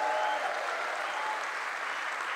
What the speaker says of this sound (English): Give a round of applause for Felix Dexter